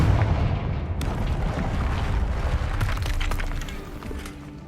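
A Confringo fire spell bursts in Hogwarts Legacy with a loud sudden blast, followed by crackling, shattering debris and a rumbling tail that slowly fades, with no voices.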